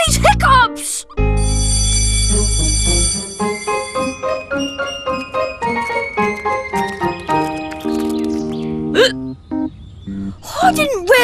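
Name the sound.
cartoon character hiccuping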